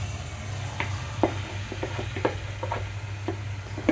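Masala chicken curry sizzles steadily in a pan while a spoon stirs and scrapes in irregular taps, close up, no voices.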